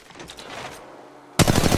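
Game gunfire in a squad shooter: a quiet stretch of scattered shots gives way to a sudden loud burst of rapid automatic fire near the end, with no talk.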